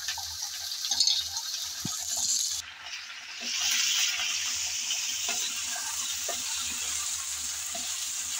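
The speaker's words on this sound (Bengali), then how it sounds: "তেলের মধ্যে একটু নেড়ে চেড়ে ভেজে নেব।" Eggplant pieces frying in hot oil while being stirred, a steady hiss of sizzling with scattered scraping taps from the spoon, close and moderately loud, briefly dipping before resuming.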